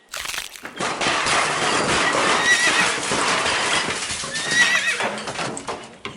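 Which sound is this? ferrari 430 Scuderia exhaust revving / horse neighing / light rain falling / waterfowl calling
horse neighing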